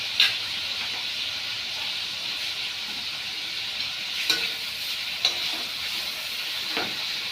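Tomato sauce sizzles in a pan with tilapia fish, a steady close hiss of frying with a few soft stirring clicks and pops.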